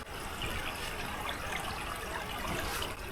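Water from a small spring-fed stream trickles and burbles steadily close by, a continuous soft gurgle with no voices over it.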